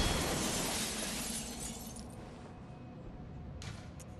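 A window pane smashes in the game Bloodborne with a loud burst of shattering glass that fades into a scattered tinkle of falling shards, with no talking.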